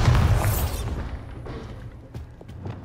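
A Bombarda spell explodes in Hogwarts Legacy: one loud, deep boom at the start that fades into a rumbling tail, with a few faint pops after it.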